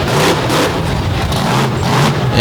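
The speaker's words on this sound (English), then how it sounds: "You can see the truck is getting up and making horsepower" Methanol-burning racing truck at an Overdrive Battle event, its engine revving hard and loud, a dense continuous roar with rising and falling pulls close by, trailing a coolant-laden exhaust.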